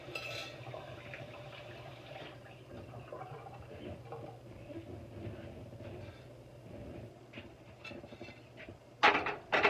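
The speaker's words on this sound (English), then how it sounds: "So I'm going to pour this water out" Hot water poured from a pot after boiling fish, a steady muffled splashing and rushing stream running continuously at moderate volume, ending with a few sharper clatters of the pot.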